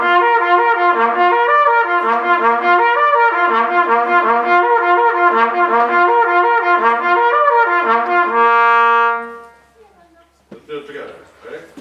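Trumpet lip flexibility exercise in a masterclass, clear slurred phrases moving up and down between harmonics for about nine seconds, then a brief quieter sound at the end.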